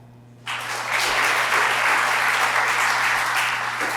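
Audience applause at a College of Medicine faculty recognition ceremony, starting abruptly after a quiet moment and swelling into a steady, full round of clapping from a crowd that carries on to the end, with a faint low hum underneath.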